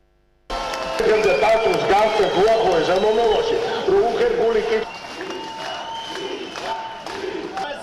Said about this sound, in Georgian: მსგავსი შეძახილები აჭარის მთავრობის სახთან რამდენიმე საათის განმავლობაში ისმოდა